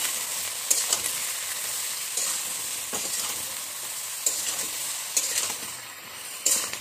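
Ridge gourd with poppy seed paste, turmeric and milk cream frying in an open pan, giving a steady hiss of sizzling broken by occasional soft scrapes of a stirring spoon.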